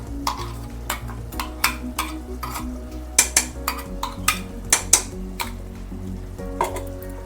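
Mixed masala is stirred into mutton frying in a pot for a curry: sharp metal spoon clinks and scrapes against the pan come in an irregular rhythm over a low, continuous sizzle, close and clear.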